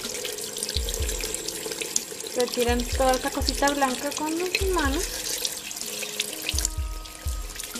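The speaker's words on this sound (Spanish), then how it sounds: "No abran mucho la llave" A sink faucet runs steadily while a red snapper is cleaned by hand, the stream splashing and shifting under a person speaking in Spanish, with soft knocks of handling throughout.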